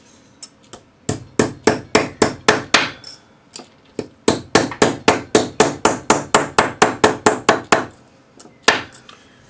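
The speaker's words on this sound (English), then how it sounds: "use a planishing hammer initially to hammer this flat" A planishing hammer flattens a metal leaf in sharp, ringing metallic strikes, about two dozen in quick, regular bursts with a short pause between groups, close and loud.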